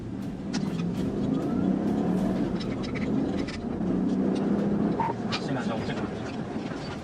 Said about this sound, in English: troopers encountered a Nissan Armada driving at high speed, its tires already destroyed,